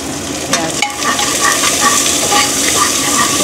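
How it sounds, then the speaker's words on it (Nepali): Onion frying in hot oil with garlic paste in a pan, cooked village-style for a Thakali mutton head curry; a loud, steady sizzle with scraping stirring strokes, close and continuous with no talk. "भुट्ने प्याज"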